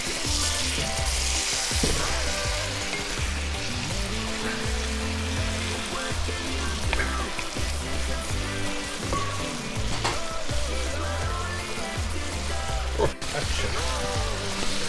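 Lamb meat browning in a cast-iron potjie pot, a loud continuous sizzle and crackle of frying with occasional stirring scrapes, steady throughout and close up, with no talk.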